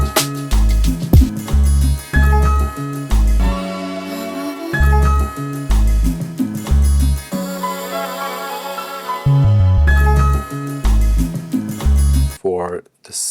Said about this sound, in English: Then I added the massive bass on top.